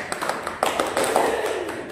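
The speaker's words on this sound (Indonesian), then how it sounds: "Siap, tepuk tangan Dok." A few scattered hand claps for a doctor in an HIV/AIDS podcast studio, light and brief, spread over under two seconds with no one speaking.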